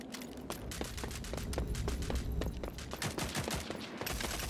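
Rapid gunfire in the online shooter Rogue Company, dense overlapping shots and bursts firing continuously, loud and close with no speech over it.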